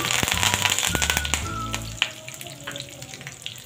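Curry leaves drop into hot oil in a pan while cooking vatli dal and set off a fierce burst of crackling and sizzling, with one sharp pop, before the frying settles to a quieter hiss.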